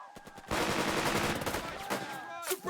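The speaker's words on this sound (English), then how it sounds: "Suppressive fire." Rapid machine-gun fire in the Burden of Command video game, a dense burst of shots that starts abruptly and keeps up for about two seconds, then tapers into a few scattered shots.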